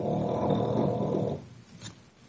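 A pet dog snoring loudly nearby, one long rough rasping breath that fades out, followed by a short quieter snort, with no voices.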